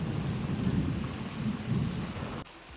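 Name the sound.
thunder and heavy rain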